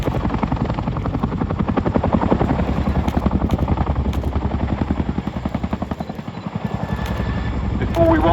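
A Chinook twin-rotor helicopter flying at the RAF Cosford air display makes a loud, continuous rapid rotor thudding with a whining turbine edge, while a commentator speaks over it.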